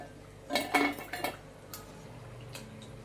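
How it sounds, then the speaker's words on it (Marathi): Fried jowar flour chakli being lifted from a pan of hot oil, giving a few light metallic clinks and scrapes of a utensil against the pan, close and fairly quiet. "आपण या चकल्या आपल्या तळून झालेल्या आहेत, त्या आता आपण काढून घेऊया"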